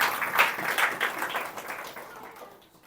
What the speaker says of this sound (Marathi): टाळ्या वाजवून देवाला धन्यवाद.